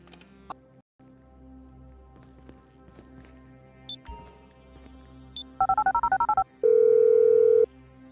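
In GTA V, a phone dials as a quick run of short touch-tone beeps, then a steady ringback tone, over low game ambience and scattered mechanical clicks.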